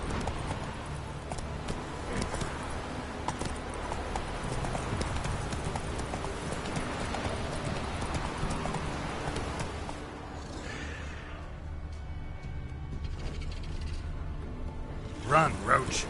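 Roach the horse gallops in The Witcher 3, a continuous rapid clip-clop of hooves under game speech and ambient effects, easing toward the end with a couple of sharp louder hits.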